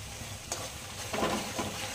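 Capsicum sautéing with onions in a pan gives a steady, soft sizzle with faint stirring scrapes, heard close and alone at low level.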